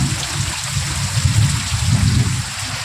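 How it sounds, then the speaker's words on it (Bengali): Steady rain falls, a dense, loud hiss with a low patter throughout and no voices. "বসে বসে ভাবি আমি সারাদিন বৃষ্টিটা কখন কমবে"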